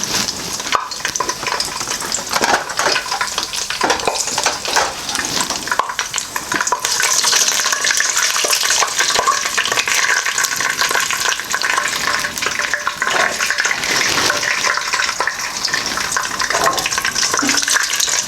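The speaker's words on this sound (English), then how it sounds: "Just roasting it, the whole spices." Whole spices, black pepper, bay leaf and cardamom roast in a pan for Indian restaurant base gravy, giving a loud, continuous crackling sizzle with scraping stirs, close and alone.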